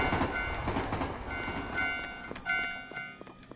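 A train rumbles past a station platform in a video game, a dense continuous roar with steady tonal whine and rhythmic clatter, loud and near, slowly easing off, with no talking.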